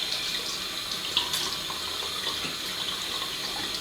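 Tap water runs steadily at a sink while a face is wetted before a shave with a Roberts & Son stub tail razor, a continuous close hiss with faint splashes and no talking.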